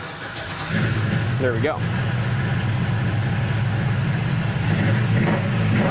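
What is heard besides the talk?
2-wheel drive Chevrolet Blazer engine starting and idling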